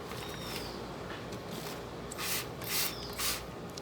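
Insecticide sprayed onto sweet potato cuttings from a hand sprayer, three short hissing bursts in quick succession near the end, after a stretch of quiet rustling.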